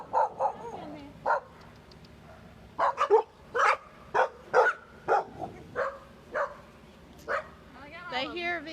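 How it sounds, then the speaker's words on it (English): A dog barks repeatedly in short, loud bursts with a few whimpering yips toward the end, heard close up at a backyard bird feeder while a person talks to it between barks. "Stop barking at me."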